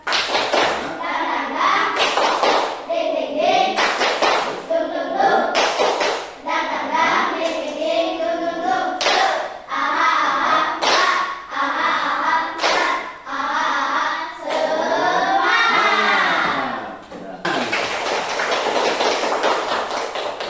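A school class claps out a tepuk semangat pattern, bursts of rhythmic hand claps alternating with chanted voices in a classroom, loud and close.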